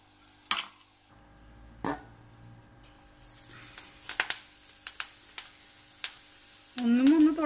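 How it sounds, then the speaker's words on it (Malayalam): Cauliflower florets deep-frying in hot oil for a crispy street-stall gobi fry, a close, steady sizzling hiss broken by sharp pops and crackles, with a voice talking briefly near the end. "നല്ലൊരു ഗോൾഡൻ കളറാവുമ്പോൾ വറുത്തെടുക്കുക കേട്ടോ"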